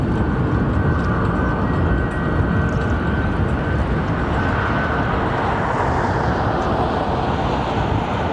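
A jet airliner climbs away after takeoff from London Heathrow, its broad, steady engine roar loud and continuous throughout with no talking.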